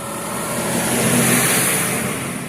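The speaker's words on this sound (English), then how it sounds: "that's just a tractor trailer." A tractor-trailer truck passes along a road, heard as a broad steady engine roar and tire rush that swells and fades over a couple of seconds.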